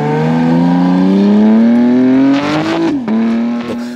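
A loud, close BMW M4 G82 Competition engine with a new aftermarket exhaust, tuned to 600 hp, roars as it revs, pitch rising steadily before a sharp drop and crackling pops near the end.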